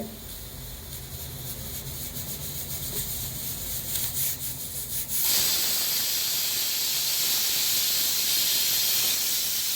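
A pressure cooker cooking tapioca gives off a steady hiss that suddenly swells into a louder, sustained rush of escaping steam about halfway through, close and continuous.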